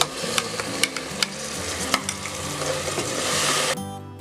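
Paste of ground mint, ginger, garlic and green chilli frying in a pan with pulao, a steady close sizzle broken by sharp clicks of stirring, ending in a brighter burst of hiss.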